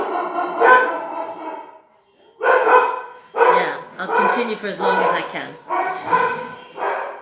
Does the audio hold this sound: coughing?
no